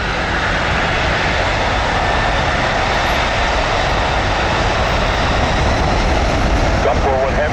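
A Royal Canadian Air Force aircraft roars steadily on its takeoff run at Toronto Pearson International Airport, a loud continuous engine wash filling the whole stretch with no break.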